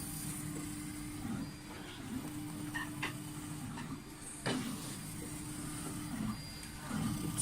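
A 3D printer starts a print with quiet whirring and faint clicking ticks, a low steady hum under occasional brief mechanical taps, recorded at low level without talk.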